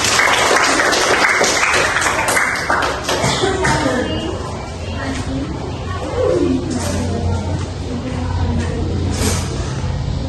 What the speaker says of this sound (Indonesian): terberi tepuk tangan untuk Dwi